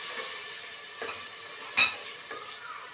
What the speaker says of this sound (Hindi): थोड़ी देर भून लेती हूँ, जो अदरक और लहसुन का कच्चापन खत्म हो जाए।